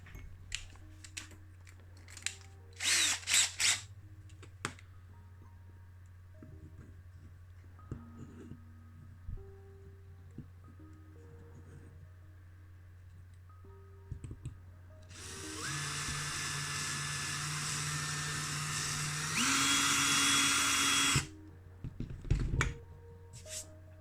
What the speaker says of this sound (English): I thought I'll try and drill through